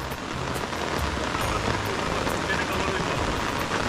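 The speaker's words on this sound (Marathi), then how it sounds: "पाऊस वाढलाय रे." Heavy rain pours steadily on a trip in Kokan near Kankavli, a dense close wash of drops on surfaces with faint voices in the background.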